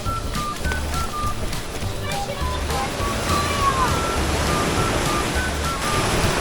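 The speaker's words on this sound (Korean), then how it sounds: "파도가 엄청 세요." Strong sea waves break on a sandy beach along Korea's east coast in a steady, loud wash of surf, with faint voices and wind in the background.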